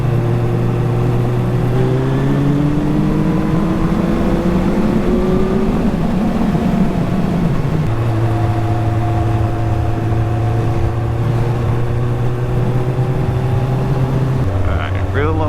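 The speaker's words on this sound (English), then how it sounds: "real low RPMs, cruising around the corner very respectably" Suzuki Bandit motorcycle fitted with a jet kit, ridden at low RPM around a corner on a country road, its engine a steady close mid-pitched drone that shifts pitch a few times as revs change, with wind rush underneath.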